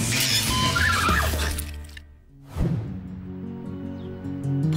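A horse at an animal shelter in West Sussex whinnies loudly in two bursts separated by a short quiet gap, with no voices.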